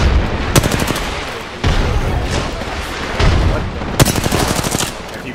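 Rapid bursts of automatic gunfire from a shooter video game using hammerpoint rounds, loud and close, in several separate volleys with short gaps between them.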